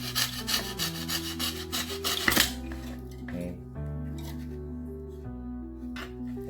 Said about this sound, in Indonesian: Dan saya membuang sisa-sisa yang tadi, masih tetap pakai gergaji triplek.